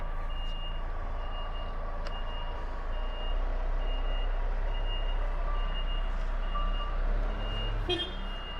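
Truck reversing alarm beeping at a steady repeated rhythm, close and clear over a constant engine rumble, with a voice briefly at the end.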